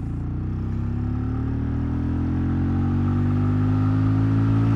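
A 2023 Benelli Imperiale 400 single-cylinder motorcycle pulls hard on a road test. Its close, loud engine drone climbs steadily in pitch for several seconds with no talking.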